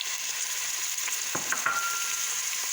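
Garlic frying in oil in a home kitchen for Egyptian koshari, a steady bright sizzle throughout with a few stirring scrapes and clinks near the middle, close and fairly loud, no talking.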